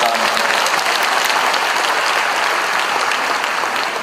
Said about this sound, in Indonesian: Menurut saya pantas kita beri aplaus khusus untuk Dino Patijala.